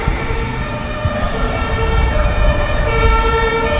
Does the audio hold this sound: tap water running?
no